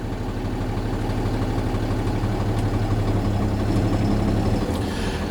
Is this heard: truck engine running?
yes